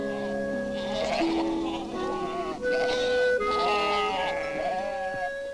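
Himalayan mountain goats bleat repeatedly in wavering, overlapping cries over a steady background hum, with a bright sustained tone running beneath.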